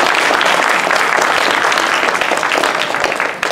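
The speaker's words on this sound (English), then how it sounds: "Give a big applause to them." An audience at a Sri Lakshmi Narayan Kalyanam gathering gives the scholars sustained, dense applause, loud and steady before thinning and dropping off near the end.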